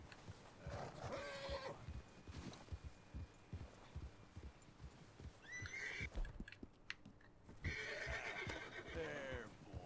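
A horse in Red Dead Redemption 2 neighs and whinnies loudly several times in a game scene, with the steady clop of hooves underneath and brief low murmurs of voice.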